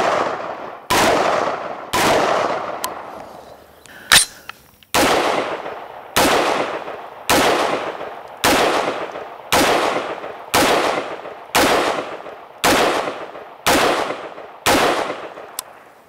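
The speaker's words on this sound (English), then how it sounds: "I want to start at 25 and just try with the AAC 55 grain ammo and see how it does with a bag and a rest" About fourteen evenly spaced, loud, sharp shots from a KAK K15 4.75-inch AR pistol firing AAC 55 grain ammunition from a bag rest at 25 yards, each crack followed by a brief decaying echo.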